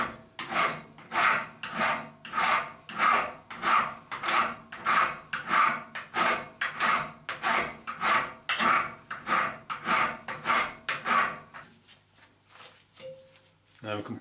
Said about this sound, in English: I just need to remove that rivet that's been peened over. I'm actually just going to do that by using a file.